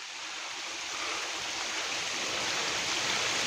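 A small waterfall or spring stream along a trekking shortcut to Yulla Kanda in Kinnaur, Himachal, rushes in a steady, close, broadband hiss of flowing water, growing slightly louder, with no voices.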